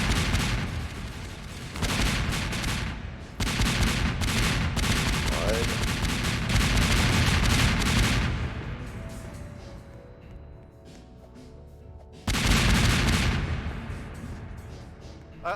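Explosions from the explode tool in the Roblox video game, a loud barrage of booming blasts in dense bursts, trailing into a quieter stretch before another heavy volley near the end.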